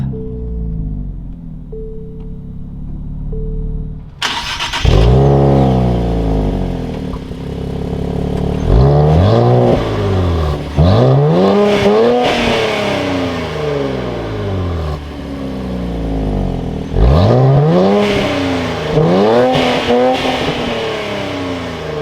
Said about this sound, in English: we can tap this aluminum red start button and fire it up